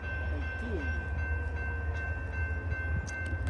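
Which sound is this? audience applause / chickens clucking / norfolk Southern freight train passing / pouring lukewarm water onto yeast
norfolk Southern freight train passing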